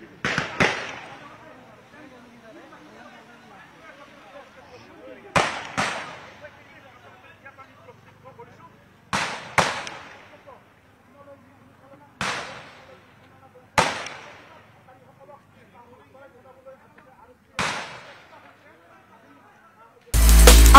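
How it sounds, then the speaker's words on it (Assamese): Gunshots fired into the air by police at a public protest outside a district jail ring out as about eight sharp, loud cracks, some in quick pairs, spread apart over a quiet murmur of distant crowd. "এই মুহূৰ্তত চাওক ধাৰাবাহিকভাৱে যি শূন্যলৈ গুলীচালনা কৰি থকা হৈছে"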